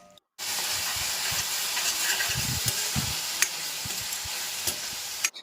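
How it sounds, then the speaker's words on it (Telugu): Onion paste with ginger-garlic paste, coriander powder and cumin powder frying in oil for a fish curry, a loud continuous close sizzle and hiss with occasional scraping stirs and small pops, no voices. "ఇందులో అల్లం వెల్లుల్లి పేస్ట్ ధనియాల పొడి జీలకర్ర పౌడర్ కూడా వేసేసి ఈ విధంగా ఫ్రై చేసేస్తున్నాను"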